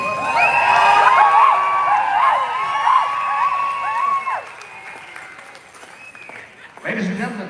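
A crowd at a fancy dance contest claps and cheers loudly for a dance team, with high whoops and children shouting over the applause, which fades before a final burst.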